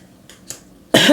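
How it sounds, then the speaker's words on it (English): A single burst of coughing from one person near the end, loud and close, preceded by a few faint throat noises in an indoor room with incense burning. "excuse me for coughing"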